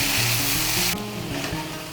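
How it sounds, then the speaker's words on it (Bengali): Pieces of kakrol (spiny gourd) sizzle loudly in hot oil as they are stirred with spices in a pan, a steady close frying hiss with faint scraping. "কাঁকরোলগুলোকে মিশিয়ে নেব ভালো করে মশলার সঙ্গে।"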